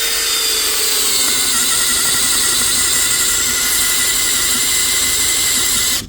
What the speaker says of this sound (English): I'm going to engage the clutch a little bit, so that way it doesn't bind out. And we're going to see if it can do a countersink bore.